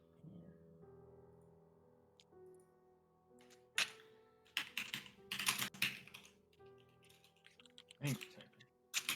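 Keys on a computer keyboard clatter in irregular bursts of sharp clicks against a low hum, with people talking quietly in the background.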